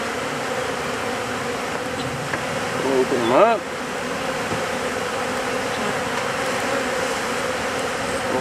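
A dense honeybee swarm drones steadily inside a hive box, a close, continuous buzz that runs the whole time while someone speaks briefly over it midway.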